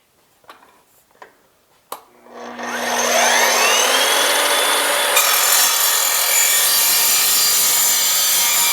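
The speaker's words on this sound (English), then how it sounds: "here's the piece of aluminum that I just cut off with this saw." A sliding miter saw with a multi-material blade cutting aluminum tube with an 1/8 inch wall: a few clicks, then the motor spins up and a loud, steady, high-pitched grinding whine holds to the end.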